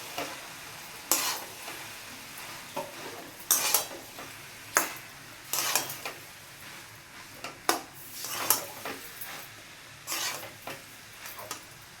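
A spoon stirs cooked rice into tomato masala in a pan for vegetarian tomato rice, with repeated scraping, clinking strokes at an irregular rhythm over a faint sizzle, close and moderately loud.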